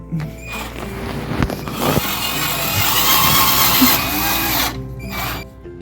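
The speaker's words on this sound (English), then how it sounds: "I'm going to go ahead and put these 3 Craig screws in here on both sides." Power drill driving screws into a wooden Murphy bed frame during a DIY build, a loud steady whirring run that rises and holds for several seconds with brief knocks, then stops near the end.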